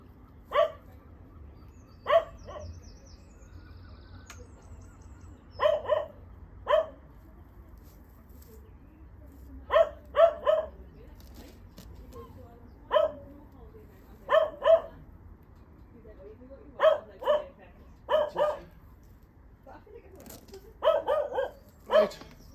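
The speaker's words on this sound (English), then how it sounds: "I'll switch you off there because the dog's barking" A dog barks in a garden among strawbale vegetable beds, sounding in short bursts of two or three barks spaced a few seconds apart, moderately close and clear over a quiet outdoor background.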